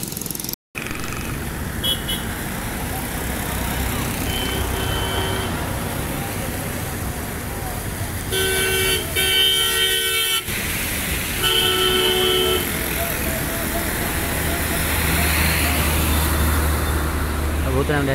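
Car horns honk amid dense street traffic in Karachi after heavy rain, with steady road noise and engines throughout and several loud tonal honks in bursts near the middle, while someone talks over it.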